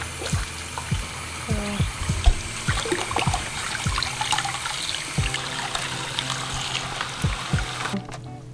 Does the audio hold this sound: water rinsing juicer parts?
yes